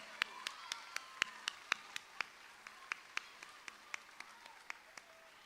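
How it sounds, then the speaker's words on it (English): A small audience at a primary school sports awards claps for the run club, sparse and distinct, with a few individual claps in an irregular rhythm, faint and somewhat distant. "a huge clap to everyone who comes"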